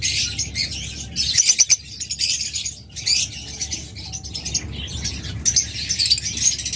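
A violet-wing pair of pet birds calls in repeated bursts of bright chirps and tweets, fairly close and loud, with short pauses between clusters and no talking.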